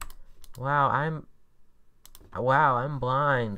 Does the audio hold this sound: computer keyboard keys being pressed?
yes